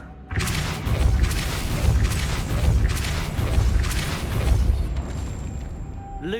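Depulso force spells in Hogwarts Legacy, a string of repeated booming thuds and bursts in a loose rhythm, loud and close over a rumbling game backdrop.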